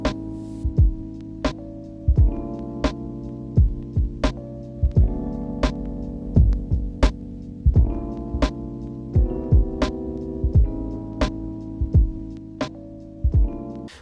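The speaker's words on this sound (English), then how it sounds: "I'm using the harshest type of distortions, but I'm putting the drive all the way down." A looped electronic beat runs through an Elektron Analog Heat Mk2 distortion set to its harshest types with drive at minimum, giving sharp repeating hits over a warm, sustained harmonic bass pattern with no talking.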